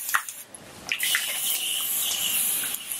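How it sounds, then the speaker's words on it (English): Water misted lightly onto dry, low-porosity natural hair from a spray bottle, heard as a few soft, close hissing sprays and faint dripping against quiet room tone. "I just wanna mist it lightly."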